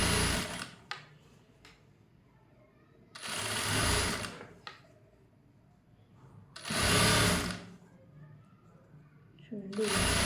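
A sewing machine runs a long-stitch line along a blouse hem in three loud bursts of about a second each, with quieter handling and a voice talking in the gaps.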